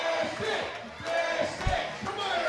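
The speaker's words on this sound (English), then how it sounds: "Just listen to this crowd." A baseball stadium crowd at a Seattle Blackfins game against the DubSea Fish Sticks cheers and roars in a dense, continuous wash with scattered yells and a few thumps, distant and moderate in level.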